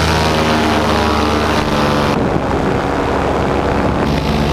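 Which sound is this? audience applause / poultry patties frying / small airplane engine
small airplane engine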